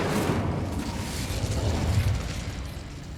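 Incendio fire spell being cast, a sustained roaring whoosh of flame with a dense low rumble lasting over three seconds, loud and steady with no talking.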